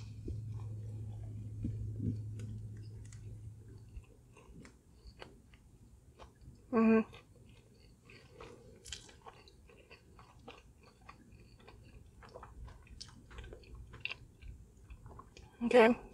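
Chewing on a crunchy fried chicken sandwich with a soft bun, soft munching under quiet background hum and a couple of sharper crunching bursts.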